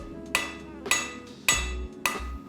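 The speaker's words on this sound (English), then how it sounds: "I start hitting the edge of the blade" Four sharp metallic hammer strikes on the edge of a knife blade being forged, evenly spaced about half a second apart, each ringing briefly before the next blow.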